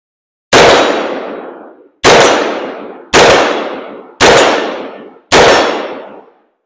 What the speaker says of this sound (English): So take a few shots with this as well.